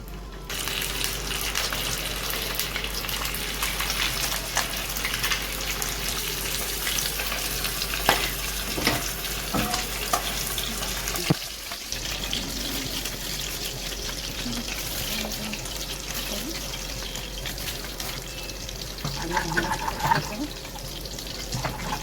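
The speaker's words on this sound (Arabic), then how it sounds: "خليكم معايا عشان تسمعوا الطش." Garlic and dried coriander fry in a pan, the Egyptian molokhia topping, giving a continuous loud crackling sizzle for over twenty seconds, with occasional clicks and stirring scrapes on top.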